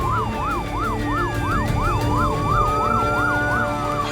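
Ambulance siren wailing in a fast, regular up-down yelp, loud and close from inside the moving vehicle running on lights and sirens, over steady road and engine rumble, with no talking.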